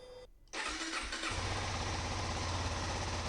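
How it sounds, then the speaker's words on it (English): A Suzuki DRZ400S motorcycle engine cranks and catches, then settles into a steady, loud, close running rumble with no speech over it. "I'm going to fire the bike up and let it run for about 5 or 6 minutes"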